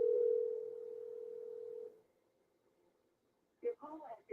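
A steady single telephone tone sounds for about two seconds before a call goes to voicemail, then fades into quiet before a voice starts speaking.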